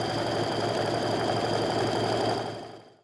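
Sewing machine stitching strip-pieced quilt pieces, a steady rapid mechanical whirr with fine rhythmic ticking, close and continuous before slowing to a stop near the end, no talking.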